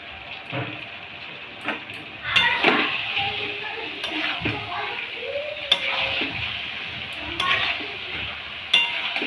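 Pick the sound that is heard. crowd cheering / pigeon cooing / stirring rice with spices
stirring rice with spices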